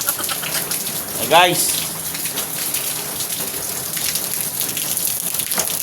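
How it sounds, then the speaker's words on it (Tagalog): Morning rain falls in a steady, dense hiss of drops on surfaces, continuous throughout, while someone briefly speaks over it near the start. "Ang ulan yan ngayong umaga."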